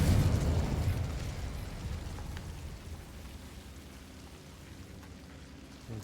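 A Confringo blasting curse goes off in the Hogwarts Legacy video game, a loud booming explosion at the start that rolls into a long, fading rumble with crackling debris.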